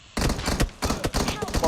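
Rapid gunfire bursts from a shooter video game, loud and dense with short gaps, mixed with background game noise and people talking over the shots.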